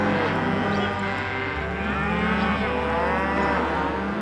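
Cattle on a Southwest ranch where cows and calves are raised, lowing in long, loud, close moos that overlap one another continuously, with no talking.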